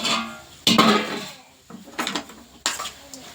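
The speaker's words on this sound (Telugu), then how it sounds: "ఇప్పుడైతే మనం అయితే కూర కలబెట్టుకుందాం" A curry is mixed in a metal pot, with bursts of a spoon scraping and clinking against the sides separated by brief quiet gaps. The sounds are close.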